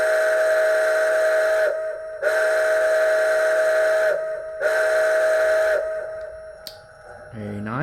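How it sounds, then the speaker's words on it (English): A steam whistle from a sound decoder in an Athearn MT-4 model locomotive blows three sustained tonal blasts with short gaps between them, loud and close, followed by a brief fading hiss at the end. "F2, the good old whistle."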